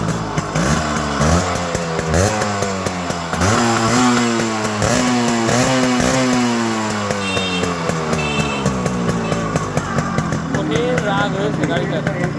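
A Yamaha RX 100 motorcycle engine is revved over and over, its raspy, buzzing note climbing and dropping in pitch, loud and close throughout.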